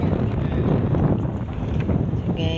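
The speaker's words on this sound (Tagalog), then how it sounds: "So guys, sobrang hangin dito." Strong wind buffeting the microphone with a constant low roar, loud and unbroken throughout, a brief tonal sound near the end.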